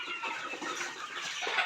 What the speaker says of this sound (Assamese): এইটো কুকুৰা পোৱালি।